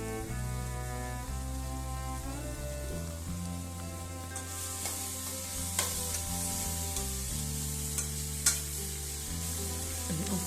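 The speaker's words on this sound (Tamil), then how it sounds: "உப்பு சேர்த்துட்டு நல்லா வதக்கி விடணும்." Courgette sautéing with salt in a pan, a steady close sizzle under a continuous tonal hum, with occasional sharper scrapes and taps from stirring, no talking.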